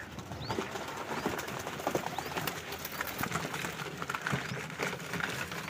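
Pigeons coo softly and repeatedly in a low, murmuring chorus, with faint rustling and occasional wing flutters nearby.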